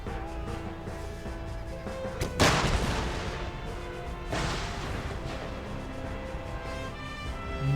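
Cannon volleys from artillery batteries in Empire: Total War, the Darthmod version, with two loud broadband booms a couple of seconds apart rising over a constant battlefield din of music and distant fire.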